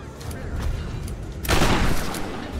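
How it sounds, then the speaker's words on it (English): A shotgun fires in the 2013 video game Tomb Raider, one loud, broad blast suddenly rising over continuous game noise and holding as a dense roar for about a second. "Maybe this shotgun."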